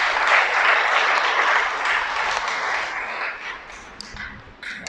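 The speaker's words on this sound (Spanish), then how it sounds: "Dale otro aplauso al Creador." A church congregation claps together in a broad, dense wash of applause that holds steady and then thins out toward the end, heard from within the room.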